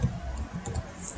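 Quick, light clicking of keys on a computer keyboard while entering a database command, heard close and alone in a short run of taps without any speech.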